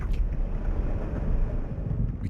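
Engine chugging in a video game, a steady low rumbling drone that holds without pause, close and fairly loud, with no other sounds over it.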